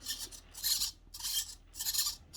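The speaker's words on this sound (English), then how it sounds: "Probably I will be filing down a bit of the axle case here to have room for a bit more" A file rasps against the axle case of an FTX Outback Mini 3.0 RC trail crawler in four steady back-and-forth strokes, close and fairly loud.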